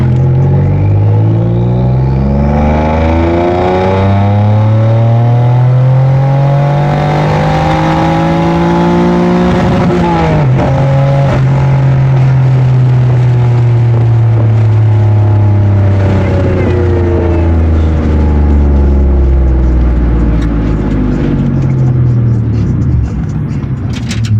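A turbocharged 3.8 Genesis Coupe on an Alphaspeed street tune pulls hard through third gear, engine note climbing steadily and loud from start to finish with a brief shift-like dip midway, droning close to the microphone.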